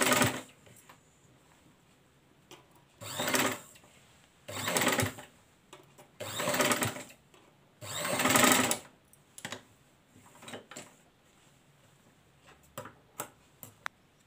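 A sewing machine stitching a raglan-sleeve baby frock runs in several short bursts of rapid mechanical whirring, separated by pauses with faint ticking, close and fairly loud.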